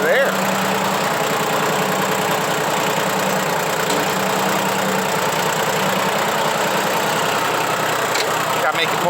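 A vehicle engine running hard in high gear outdoors in a backyard, a loud steady drone with constant vibration that holds level throughout with no pauses.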